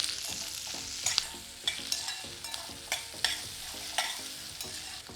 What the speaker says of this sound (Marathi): साधारण तीन ते चार मिनटं आपण हाय फ्लेमवर परतून घेऊया